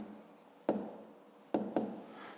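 A pen writes out a fifth-grade maths exercise on paper: quiet, close scratching with a few short, distinct strokes and taps, and no voice over it.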